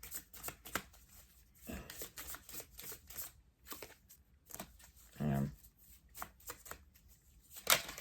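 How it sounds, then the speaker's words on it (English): Long, thin oracle cards being shuffled by hand in several short papery riffles and slides, close and fairly quiet, with scattered speech-like gaps and a sharper snap near the end. "these are a little hard to shuffle, I have to say, because they're really long and thin"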